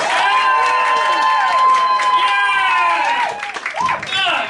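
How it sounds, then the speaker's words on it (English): A comedy club audience claps and cheers steadily as a comedian is welcomed to the stage, loud and dense throughout, with whoops and a voice over the top before it thins out at the end. "If we just start getting the clapping and the cheering going"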